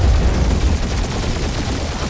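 Loud, dense video game gunfire and explosions from Guardians of the Galaxy rumble continuously in a busy, chaotic burst with no pauses.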